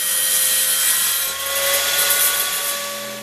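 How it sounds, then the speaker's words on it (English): A scroll saw mounted upside down cuts tight curves in wooden legs traced from printed templates, giving a steady buzzing whine with fast reciprocating rasp and slight shifts in pitch as the blade works through the wood. "I was back to the upside down scroll saw since my bandsaw can't cut radii even close to that tight."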